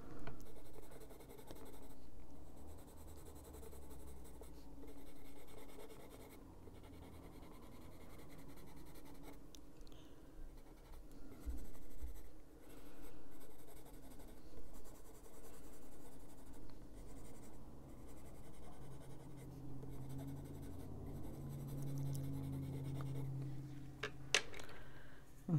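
Coloured pencil strokes with Luminance pencils on paper, a steady soft scratching that runs continuously and close up for the whole stretch, with no talking.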